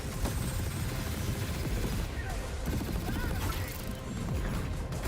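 Rapid-fire gunfire ability in a video game trailer, a continuous loud barrage of shots and crashing impacts, with a voice talking over it.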